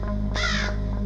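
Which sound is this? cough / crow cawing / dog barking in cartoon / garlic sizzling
crow cawing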